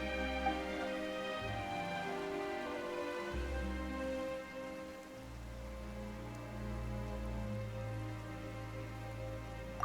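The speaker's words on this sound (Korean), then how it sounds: "갑자기 비가 오네." Steady rain patters in the video game Genshin Impact, a continuous soft hiss of drops falling on surfaces under sustained musical tones, with no voices over it.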